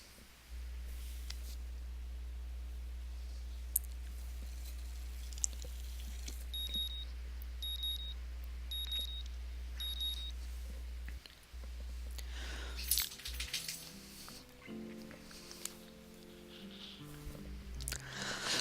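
Alarm clock in the visual novel Katawa Shoujo, a short run of four high electronic beeps in quick succession over a low steady hum, followed by rustling and clatter as the sound fades into background music.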